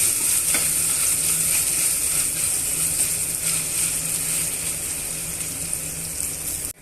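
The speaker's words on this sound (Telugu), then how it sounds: "అల్లం వెల్లుల్లి పేస్ట్ వేగిపోయింది కదండి" Ginger garlic paste fries in hot oil for a restaurant-style chicken fry, a loud, steady sizzle with a brief stirring scrape near the start, close and continuous until it cuts off.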